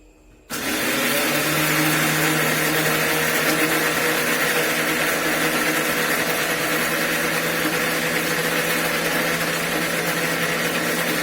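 A kitchen mixer grinder runs continuously at full speed while preparing kheer, a loud steady whirring drone with a motor hum that starts abruptly after a moment of quiet and holds without a break.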